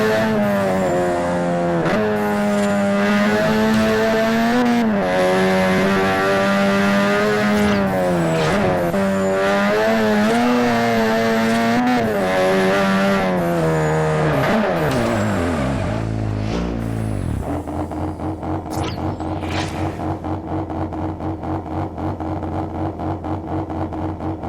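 A 1997 Mazda RX-7 rotary engine as modeled in Forza Horizon 1 revs up and down continuously and loudly, with rising and falling pitch and shifts, then settles to a steady buzzing drone near the end.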